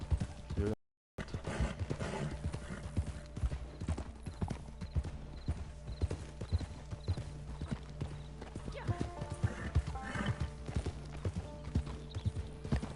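Horse hooves clip-clop in a steady, quick rhythm as a mount travels in the video game Red Dead Redemption 2 Online. The hoofbeats continue throughout and are cut by one short silent gap near the start.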